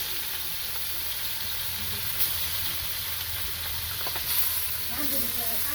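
Fish fry in a pan over a home cooking fire, giving a steady soft sizzle and hiss with faint clinks of utensils now and then.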